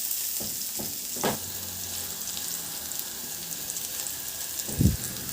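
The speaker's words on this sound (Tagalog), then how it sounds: "Igisa ko na rin yung bawang." Garlic sautéing in oil in a pan sizzles with a steady hissing crackle throughout, broken by a few soft knocks of a utensil against the pan.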